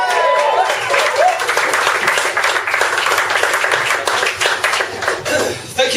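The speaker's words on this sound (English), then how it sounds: "And cheer for Mike Shea." An audience claps and cheers in a dense, continuous round of applause at a live event. Scattered voices can be heard within the clapping, which stays loud and steady throughout.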